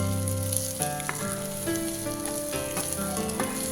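Frying in a pan while horse gram kulambu is being cooked, a steady sizzle with occasional stirring that sits beneath prominent background music.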